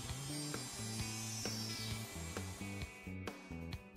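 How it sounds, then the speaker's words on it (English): A router cuts sockets in a wooden board guided by a template jig, giving a steady, close motor whine that pulses in a rhythmic pattern as the bit moves in and out of the openings, with no voices. "The socket board is routed by moving in and out of the template openings."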